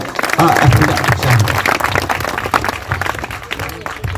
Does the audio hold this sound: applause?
yes